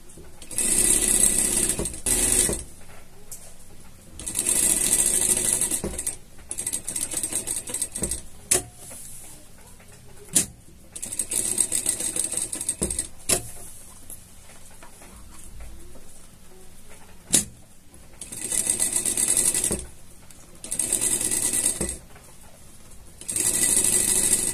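Sewing machine stitching a pet harness in several short rattling bursts separated by pauses, with clicks and handling sounds between the runs, close and fairly loud.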